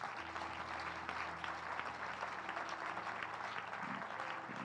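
Church congregation applauding together for a pastor during a worship service, a steady dense wash of clapping lasting throughout with no break, moderately loud.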